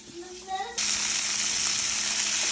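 Chicken browning in a pot lets out a loud, steady sizzle that suddenly swells to full strength and holds, after a brief tonal squeak at the start.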